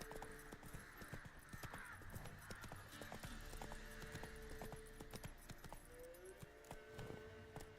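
Steady clip-clop of the horse Roach trotting in a swamp in a video game, hooves beating in even rhythm with jangling harness over soft background music, moderately close.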